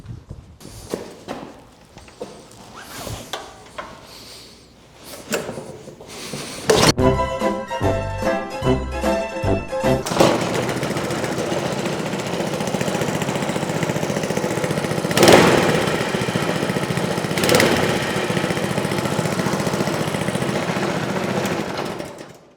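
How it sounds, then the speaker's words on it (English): Small engine of a homemade drift kart being started: clanks and handling noises, then a sputtering, pulsing crank for a few seconds before it catches and settles into a steady, loud running drone that continues to the end. "Now let's start the engine."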